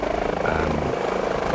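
Steady, continuous rotor and turbine drone of an HPG H145 helicopter in Microsoft Flight Simulator 2020, loud and close, with a rhythmic blade chop running through the whole stretch.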